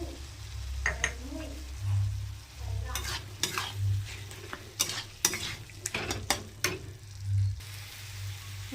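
Scraping and stirring of poppy seed paste into potatoes frying in a pan, with irregular clatters of a spoon against the pan over a low sizzle and bursts of soft knocking.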